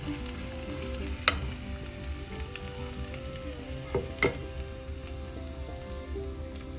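Fish curry ingredients sautéing in a pan, with a constant low frying sizzle and a few sharp clinks and scrapes of a utensil against the pan, close and moderate in level, no voices.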